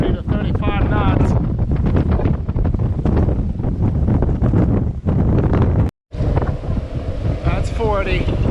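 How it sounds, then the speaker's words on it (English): Strong gusts of 30 to 35 knots buffet an anchored sailboat, roaring continuously as loud wind noise on the microphone, with a brief dropout midway and a voice speaking over it. "It's got winds about 30 to 35 knots."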